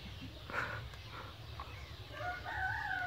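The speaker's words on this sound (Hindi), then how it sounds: "जो मुर्गे बोल रहे हैं आवाज़ सुनाई दे रहा होगा आप लोगों को" Roosters crow in the distance on a farm, faint calls rising over a low outdoor hum, with a clearer crowing call near the end.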